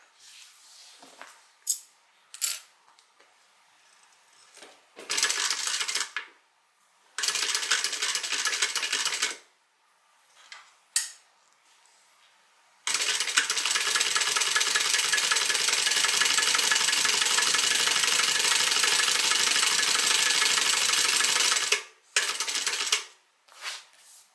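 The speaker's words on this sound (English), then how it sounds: "Go ahead and fold that back, and then I'll stitch on the bag." Sewing machine stitching a canvas tote bag, running in several short bursts and then one long steady loud run of about nine seconds, followed by a brief final burst, with no talking.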